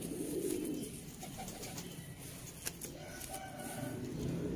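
Pigeons of a Sialkoti breed coo in soft, low murmuring bursts, fairly close and quiet, over faint background rustle with a brief sharp click midway.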